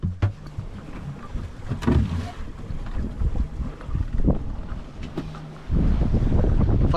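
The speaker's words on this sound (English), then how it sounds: "Nice sailing outside." A small yacht sails alone on open ocean in a solo round-the-world race, with wind buffeting the microphone, water splashing and creaks from the boat; the gusts grow much louder near the end, and no one speaks.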